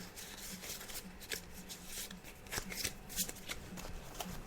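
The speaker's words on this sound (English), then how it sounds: "I'm just shuffling the cards now" Tarot cards shuffled by hand on a psychic show, a steady riffling and shuffling texture with soft repeated slaps and card flicks, close and continuous throughout.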